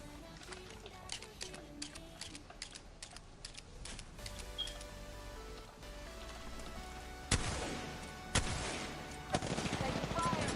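Video game gunfire in a battle-royale match: bursts of rapid shots crackle throughout, with louder, denser volleys near the end, mixed with game effects and faint speech.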